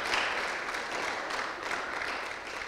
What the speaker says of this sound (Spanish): ¿Le damos un fuerte aplauso del Señor por eso?